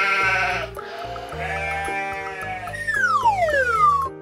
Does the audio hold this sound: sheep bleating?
yes